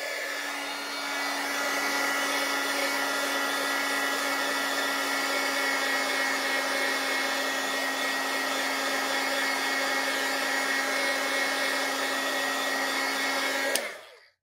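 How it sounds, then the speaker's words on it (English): A heat gun dries a freshly stamped sentiment in a card-making project: a steady, loud whirring blow with a tonal whine holds for about fourteen seconds, then clicks off abruptly. "I might hit that with a heat gun just for a second, just to make sure it's dry."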